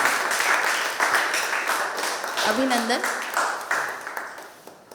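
An audience applauds at a photography contest award felicitation ceremony, with sustained clapping throughout that slowly fades, while a voice speaks over it.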